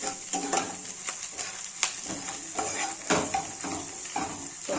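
Egg frying in a pan for egg muri while being stirred, a soft sizzle under repeated scraping and tapping strokes of a spatula, moderately quiet and close.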